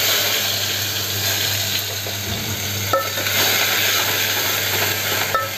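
Onion fries with garlic in hot oil, giving a constant, busy sizzle close to the microphone, with a couple of sharp utensil taps against the pan and no speech.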